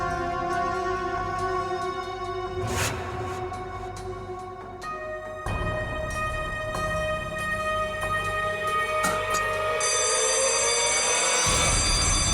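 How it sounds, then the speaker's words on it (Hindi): An electronic alarm rings inside a room during a search, a sustained, loud tonal ringing with layered pitches that grows denser and louder toward the end, with no voices. "सर अलार्म की आवाज आई"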